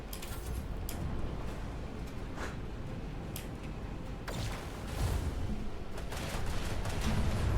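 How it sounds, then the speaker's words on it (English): A torpedo launch in the Warhammer 40k Rogue Trader video game, heard as a continuous dense roar of rumbling, crackling blasts with several whooshing bursts that swells louder in the second half. "Torpedo. Lock on and launch."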